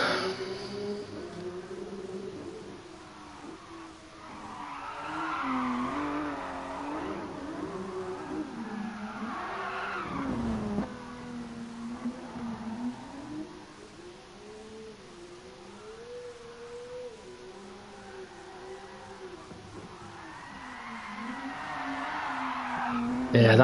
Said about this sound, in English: Yeah, that's sliding off, not drifting.